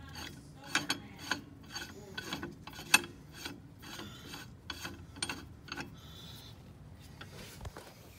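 Puller being fitted to a Polaris Ranger 1000 XP primary clutch, quiet close metallic scraping, ratcheting clicks and rubbing taps in an irregular series, then a brief rasp near the end.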